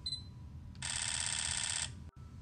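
Sony ZV-1F compact camera in speed-priority continuous shooting, a dense, rapid electronic shutter burst that merges into one bright buzzing tone for about a second, close and alone.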